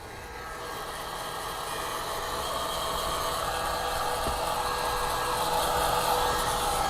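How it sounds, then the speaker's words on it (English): A hair dryer blows steadily to dry a freshly refinished steering wheel inside a car, a continuous airy whoosh that grows slightly louder and holds without pause. "I'll turn off the hair dryer"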